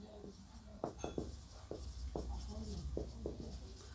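Marker or chalk writing on a board during a biology lecture, a string of short scratchy strokes and taps in uneven rhythm, close and moderately quiet over faint room hum.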